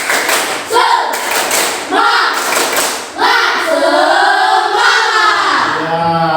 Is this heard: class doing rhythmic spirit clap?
yes